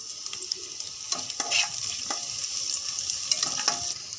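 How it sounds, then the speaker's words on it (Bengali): Chopped garlic fries in mustard oil for a soybean rice dish, with a steady, close sizzle broken by repeated scraping stirs of a utensil in the pan. "এবারে রসুন কুচিটা এর মধ্যে আমি দিয়ে দিচ্ছি।"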